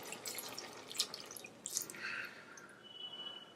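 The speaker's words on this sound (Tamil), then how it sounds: "இதில் இப்போ நான் புளி தண்ணி சேர்த்துக்க போகிறேன்" Tamarind water poured into a simmering Tamil kuzhambu (Pongal kuzhambu), heard as a quiet stretch of dripping and splashing liquid with a few brighter drips, fairly close and without talk.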